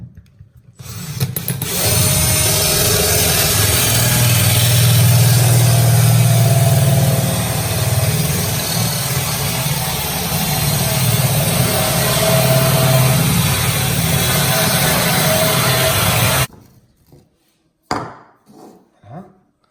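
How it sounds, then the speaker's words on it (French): A steady, loud grinding whine of a hole saw cutting through a kitchen worktop for a power strip, running continuously for about fifteen seconds before stopping abruptly. "on va percer le plan de travail pour installer cette multiprise"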